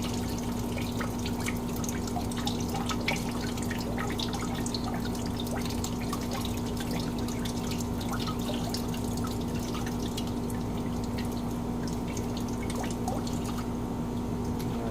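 Water drips and trickles steadily in a thin stream, draining from a 1958 Farmall 450 gas tractor, with a constant low mechanical hum underneath.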